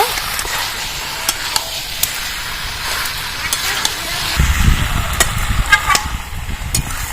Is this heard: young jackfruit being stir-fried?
yes